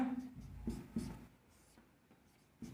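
Chalk or marker scratching on a board during a chemistry lecture, a few short strokes and taps, fairly faint with room tone.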